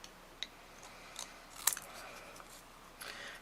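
Scissors snip card paper pieces while trimming a tufted card, giving several quiet, sharp cuts spread irregularly, with one crisper snip in the middle and a faint room hiss between.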